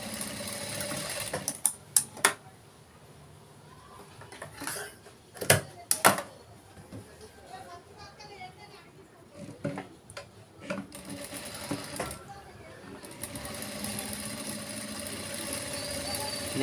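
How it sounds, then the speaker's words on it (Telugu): A sewing machine stitches piping along a boat-neck blouse in short runs of whirring stitches, broken by sharp clicks and handling knocks, close and fairly loud with only faint background noise. "ఇంకా ఈ పైపింగ్స్ వేసేస్ ఈ విధంగా ఈ లైన్ని చూసుకుంటూ ఇటువైపు పైపింగ్ వేసుకుంటున్నాను చూడండి."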